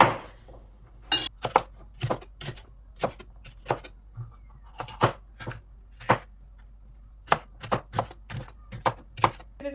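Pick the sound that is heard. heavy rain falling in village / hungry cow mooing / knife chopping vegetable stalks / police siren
knife chopping vegetable stalks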